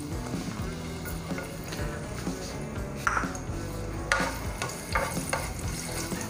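Finely chopped garlic sizzles in hot oil for a tadka tempering for bottle gourd raita, a steady close frying hiss broken by stirring scrapes and light pan clinks.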